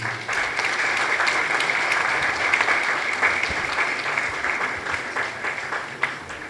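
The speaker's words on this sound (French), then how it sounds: "je vous prie d'applaudir ces messieurs et dames" Sustained applause fills a hall at a building-industry awards night, a dense, steady wash of many clapping hands with a few sharper claps near the end.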